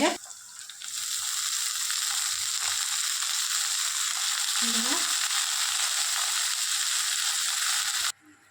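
Shepu (dill greens) tipped into a pan of frying onion, tobacco-leaf spice and green chili, giving a steady close sizzle throughout, with a brief soft shift midway and an abrupt stop near the end.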